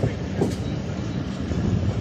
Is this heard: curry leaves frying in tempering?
no